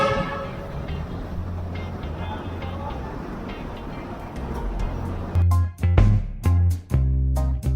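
An LRT light rail train at Monumento Station gives a steady rolling rumble, then several loud, choppy horn-like bursts close by toward the end.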